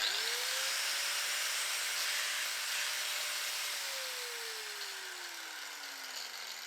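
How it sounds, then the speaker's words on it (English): A small 4-inch Makita angle grinder whirs steadily, its motor pitch rising at start then sliding down as it spins down, heard alone and fairly close. "This little 4-inch grinder, you put it on and it runs."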